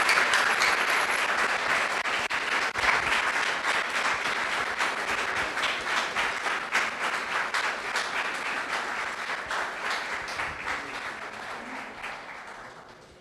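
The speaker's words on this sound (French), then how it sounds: "Je vous demande de l'applaudir chaleureusement" An audience at a youth centre warmly applauds slam poet Benson le Sage, a sustained wash of clapping that stays strong, then slowly fades over about thirteen seconds.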